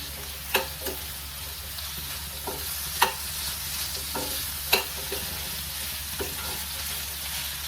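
A paneer dish sautéing in a pan gives a soft continuous sizzle, broken by several sharp clinks and scrapes of a utensil stirring.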